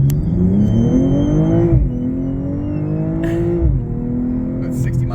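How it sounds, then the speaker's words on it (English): A BMW M240i accelerates hard from inside the cabin, its engine note climbing through two gear changes with a loud steady drone, small exhaust burbles and pops between shifts. "Some little burbles from the fucking exhaust."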